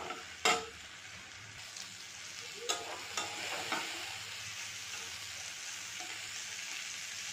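Masala frying for a homestyle fish kalia curry, with steady sizzling throughout and a sharp scrape or splash near the start followed by a few lighter utensil taps. The pour of water itself is not clearly distinct.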